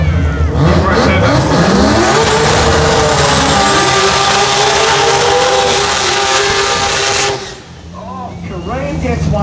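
Loud Pro Turbo Mazda RX3 drag car tearing down the strip, its rotary engine screaming through rising gear sweeps for about seven seconds before cutting off, with a track announcer talking over the run.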